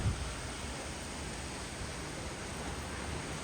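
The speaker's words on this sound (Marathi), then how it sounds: "पाऊस पडतो बाहेर या बघायला" Dense, even hiss of heavy monsoon rain pouring outside in the Konkan, continuous and unchanging from start to end, with no voices.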